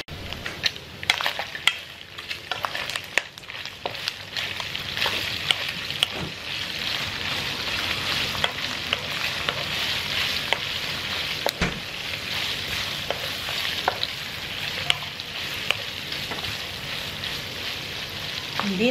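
Pork pieces fry and get stirred in a pan for a native Boholano coconut-milk dish with bago leaves and taro, giving a steady broadband sizzle with scattered scraping clicks of the utensil throughout.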